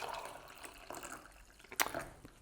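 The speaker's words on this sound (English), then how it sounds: "I'm just gonna pour the hot water." Hot water poured into a cup holding rosemary, oregano and clove, a soft close trickle with a brief brighter splash near the end, quiet throughout.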